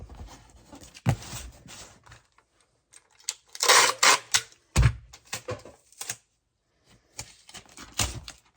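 Packing tape tears off the roll in sharp rasping pulls and is pressed onto a cardboard box for shipping, in several brief bursts with quiet gaps between them.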